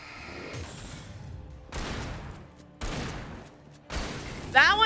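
Gunfire in the video game Alan Wake, three heavy blasts spaced about a second apart, each followed by a decaying rumble, with a brief squeal at the end and a person talking.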